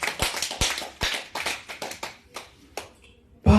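A church congregation breaks into applause during a worship service, scattered claps and taps coming in uneven bursts that thin out toward the end before a loud sudden knock.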